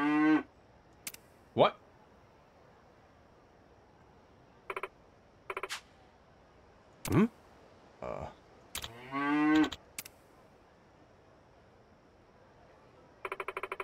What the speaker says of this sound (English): I said stop mooing, you wake the cows.